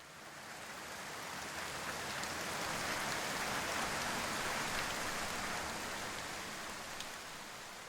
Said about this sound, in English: Then the rain began to fall.